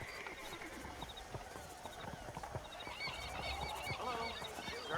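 Horse hooves clip-clopping at a gallop with neighs and whinnies, as a stolen horse runs off in the Western video game Red Dead Redemption, steady and moderately close amid outdoor ambience with faint voices.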